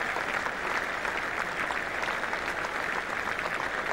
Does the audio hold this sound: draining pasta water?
no